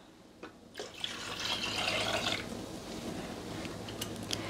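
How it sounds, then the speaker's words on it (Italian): Water poured into a Thermomix TM6 bowl while making pasta del maresciallo, a short steady splashing pour in a quiet kitchen, fairly soft and with no talk. "Aggiungere l'acqua,"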